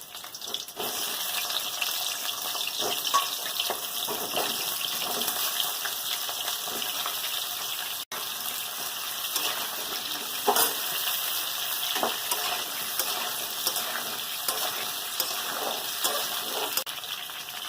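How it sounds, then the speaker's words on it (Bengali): Pointed gourd pieces frying in hot white oil in a pan, a loud continuous close sizzle with scattered spatula stirs and scrapes throughout, no voices. "পটলটা ভেজে নেব, তার জন্য সাদা তেল দিয়ে দিচ্ছি"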